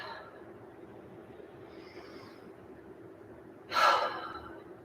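A single deep breath taken during a yoga session, an audible breathy rush near the end, rising loud and then fading, over quiet room noise.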